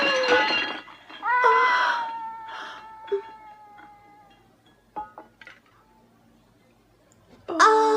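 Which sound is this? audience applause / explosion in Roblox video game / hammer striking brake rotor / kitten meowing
kitten meowing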